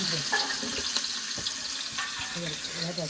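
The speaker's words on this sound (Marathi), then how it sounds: "फोडणी सुरू झालेली आहे फोडणी द्यायला कांदा गेलेला आहे पहिला" Onion sizzles in hot oil for a tempering, giving a close, crackling fry with soft stirring and watery splutters as a voice speaks over it.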